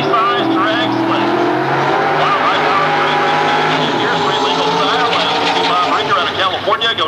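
Pro Street drag racing cars, street-legal machines that may run nitrous, turbochargers or superchargers, roar continuously at Atlanta Dragway in Commerce, Georgia, engines loud and dense with shifting pitch; an announcer talks over the noise.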